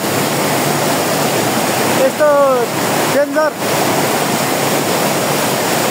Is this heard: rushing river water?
yes